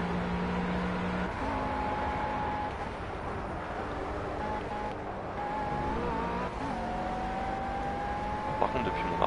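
A GT3 race car engine in Project CARS holds a sustained high whine that rises through the gears with shifts and brief tire squeal, loud and steady throughout, with faint game sound behind.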